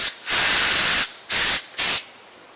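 Loud, close bursts of compressed air are forced through the holes of an Echo SRM weed wacker suffering a no-power fault: one long hissing blast followed by two shorter spurts, with no speech.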